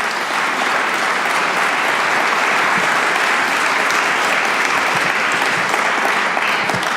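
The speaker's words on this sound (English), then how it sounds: "Give a great round of applause to Paul" A large audience applauds steadily for about seven seconds, a dense continuous wash of clapping at an even level with no voices rising above it.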